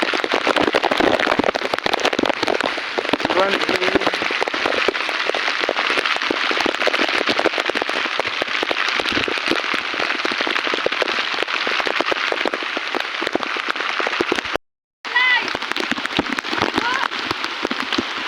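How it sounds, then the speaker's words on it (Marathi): Heavy monsoon rain pours down in a dense, continuous crackling roar, loud and close, with a brief dropout near the end. "आता कोण खेळणार नाही कारण पाऊस एवढा मजबूत पडतोय"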